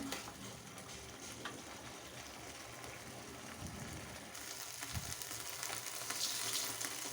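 A vegetable peel mixture being sautéed in a pan sizzles quietly and steadily, with a few scraping stirs and soft clatters breaking in.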